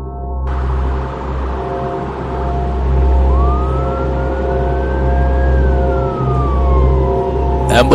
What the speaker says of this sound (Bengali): অ্যাম্বুলেন্সের হুইসেল, তার মানে লাশ নিয়ে চলে এসেছে